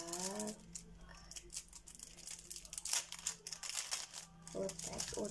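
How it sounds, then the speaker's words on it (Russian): Paper surprise packet, handmade in a Hello Kitty style, crinkles and rustles steadily as it is opened, close and moderately loud, with brief tearing-like bursts and a faint voice talking underneath. "Вот самый первый пакетик. Давайте его открываем."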